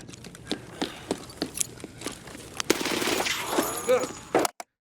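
Gunfire in the shooter game Escape From Tarkov: a string of sharp single shots, then a denser burst of rapid fire near the end, fairly close and moderately loud.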